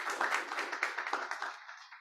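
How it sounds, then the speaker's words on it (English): A short burst of audience applause at a climate action event. Many hands clap densely and close, then taper off within two seconds. "So another big round of applause to Kelvin and Motorbricks."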